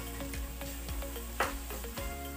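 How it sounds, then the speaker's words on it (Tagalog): Onion sizzles and fries in a hot pan while lechon paksiw is cooked, a steady, faint crackle with light stirring clicks and no talk. "Isa natin yung onion."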